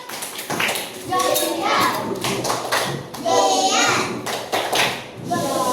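Third-grade primary class doing a rhythmic group clapping routine, children clapping and chanting together in bursts; close and fairly loud, with a teacher's voice between.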